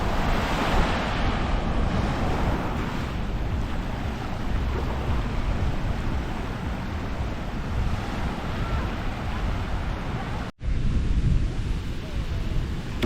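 Surf rolls onto Tanjung An Beach in south Lombok, a loud, continuous wash of waves mixed with heavy wind buffeting against the microphone, broken only by one brief dropout near the end.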